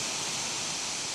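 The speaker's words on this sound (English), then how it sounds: "the fans are going ham right now" Computer cooling fans running hard at high speed, a loud steady broadband whoosh filling the whole clip with no breaks.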